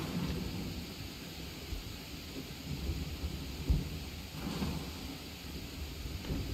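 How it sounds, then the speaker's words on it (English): Rain and thunder in the video game Wobbly Life, a steady soft hiss of rainfall with low thunder rumbles, faint and continuous with no talking. "why does it have to be rainy?"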